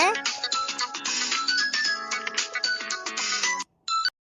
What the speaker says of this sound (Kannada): ಫೋನ್ ಬಂತ